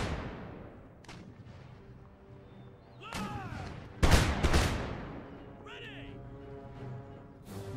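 Musket volleys from veteran foot guards in Empire Total War, a few loud cracking volleys rolling out over battlefield ambience, the strongest pair in the middle, with a voice talking beneath.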